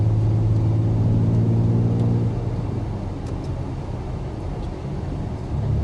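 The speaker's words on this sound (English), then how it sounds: "As soon as I click downshift, it goes ahead and gives me that gear." A 2025 BMW X3's engine rumbles and blips as it downshifts through the paddle shifters, a loud low drone easing slightly partway through, heard from inside the cabin.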